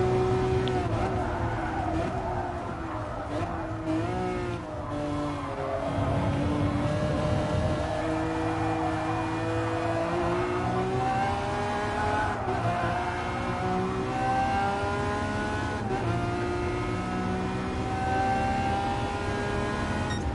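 A Lamborghini Aventador LP 700-4 races in Gran Turismo Sport, its engine a steady rising and falling whine through gear changes, with brief tire noise, loud and continuous.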